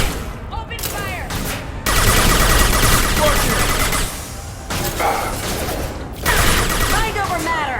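Rapid automatic gunfire bursts in the Mass Effect 2 video game, loud and sustained fusillades with short breaks between them, alongside energy whooshes and in-game voices shouting.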